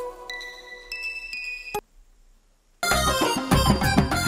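A phone ringtone plays as an incoming call rings, bright melodic tones stopping abruptly, then a short silence before loud, dense music bursts in, all close and with no talk.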